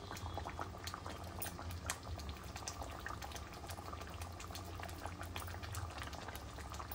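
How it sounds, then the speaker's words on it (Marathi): Egg curry simmering in a pan, a soft continuous bubbling with irregular small pops and plops, quiet and close. "आता अगदी 2 मिनिटं आपण उकळून देऊया"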